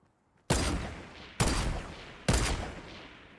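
Three loud gunshots in Fortnite fire in an even rhythm, each ringing out and fading before the next, with no talking.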